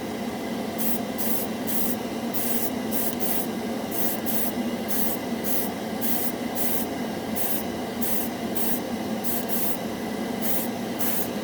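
Airbrush spraying Mr. Color Super Metallic paint onto spoons, a constant close hiss of air with rhythmic brief bursts of spray layered over it.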